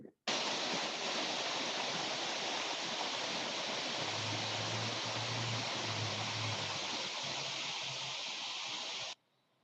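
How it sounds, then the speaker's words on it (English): A hydraulic jump in a natural river, turbulent water churning in a steady broadband rush like a waterfall, constant and fairly close, with a low intermittent hum beneath it midway. "So this is a formation of hydraulic jump in a natural river system."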